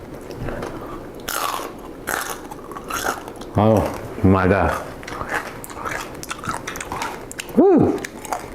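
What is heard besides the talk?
biting and chewing crispy air-fried pork belly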